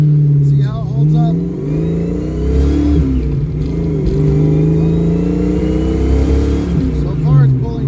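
A carbureted car engine drives hard with a steady mid-pitched drone that rises and falls in revs, accelerating up through the gears, while someone talks over it.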